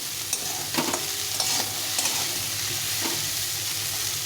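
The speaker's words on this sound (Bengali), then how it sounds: "ছোলাটা আর সেদ্ধ করবো না, শুধু এটাকে ভাজতে হবে ভালো করে।" Boiled chickpeas frying and being stirred dry in a pan, giving a steady close sizzle broken by a few scraping stirs of the spoon, with no voices.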